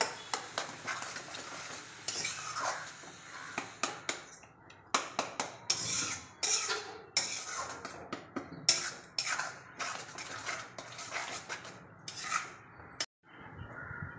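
Spatula scraping and clattering in a pan as beaten eggs are stirred and sautéed for Indian dhaba-style egg bhurji, with close, irregular metallic taps and stirs running throughout.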